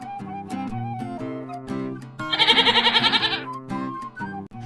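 A goat gives one loud, quavering bleat with a rapid tremolo lasting about a second, close by, over steady background music.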